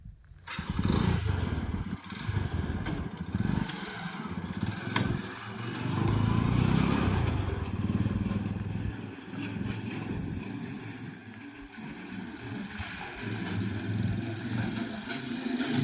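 A small farm load carrier with reverse gear, rated for about 500 to 600 kg, is driven around on a test run; its engine drones steadily and fairly loudly nearby, rising and easing as it moves.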